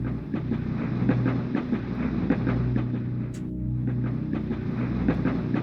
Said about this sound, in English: the train has left Kuromori town